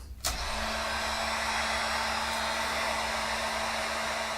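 A heat gun clicks on and then blows a steady, loud airy roar while heating a 3D printed PLA part, continuous and close with no talk.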